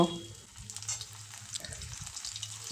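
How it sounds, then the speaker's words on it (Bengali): Cauliflower frying in hot oil in a wok, close bubbling sizzle with stirring scrapes and clatters through the short stretch, no speech. "কড়াই গরম করে তেল দিয়ে আমি ফুলকপিটা ভেজে নেব"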